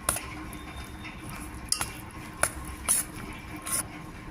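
Dal mixture soaked with hot water being stirred in a bowl, with soft wet scraping and several sharp utensil clinks against the bowl rim, close and fairly quiet.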